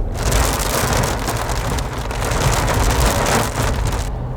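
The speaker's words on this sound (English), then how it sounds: "It continued to rain off and on as we drove from Tower Fall to Mammoth Hot Springs, sometimes pouring" Heavy rain pours down steadily in a dense, continuous hiss, loud and close, with no voices, heard from a car driving Yellowstone's Grand Loop Road between Tower Fall and Mammoth Hot Springs.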